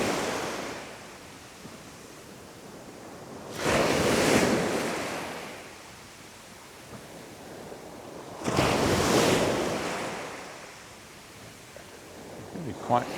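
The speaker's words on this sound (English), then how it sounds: "Really quite some of the waves are crashing as they meet waves that are retreating." Sea waves crash onto the shore at Puerto Portals, Mallorca, rising in two loud surging bursts that ease back into a steady wash, with light wind noise on the microphone.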